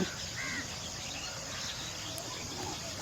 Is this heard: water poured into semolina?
no